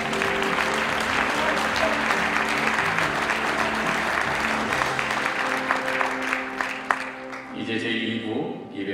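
A crowd applauds steadily for several seconds at a church denominational assembly worship rally, dense clapping that thins out near the end as music or voices take over.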